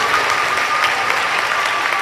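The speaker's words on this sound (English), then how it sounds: "Yeah, that's applause right there." Steady applause from a school audience at a Grandparents Day event, a dense even wash of clapping that holds for about two seconds without a break, fairly close and loud, with no voices on top.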